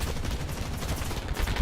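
Aircraft gun runs strafing ships in a World War II naval combat game with British battleships, heard as dense, continuous rapid gunfire with heavy low rumble, loud and unbroken throughout.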